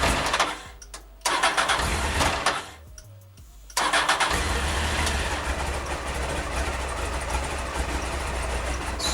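A motorcycle engine, one of several bikes including a 125 and a 900, cranks over and fires with help from a portable jump starter, then settles into a loud, steady idle that runs close by to the end.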